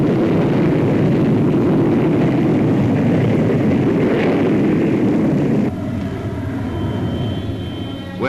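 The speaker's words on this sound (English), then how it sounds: "The Fairey Delta II is a research aircraft with supersonic speed." A Fairey Delta II supersonic research aircraft flies past at an air show, a loud, steady jet roar that continues for several seconds before dropping slightly in level.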